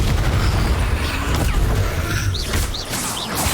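Spell effects from a fire-casting duel in Hogwarts Legacy, a loud continuous roar and crackle with bursts and pops, dense low rumble throughout and a few brief whooshing sweeps near the end.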